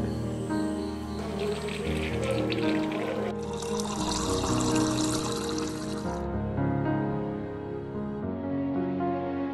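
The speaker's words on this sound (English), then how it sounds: "take cotton cloth and strain through it" Herbal hair oil strained through a cotton cloth, a steady soft pouring and trickling of liquid that carries on throughout with some handling noise and no speech.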